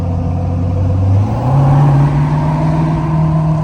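A Ford 6.7 Powerstroke diesel truck builds boost on a road drive, its engine droning steadily from inside the cab as the pitch climbs and then holds, with turbo whir layered over the rumble.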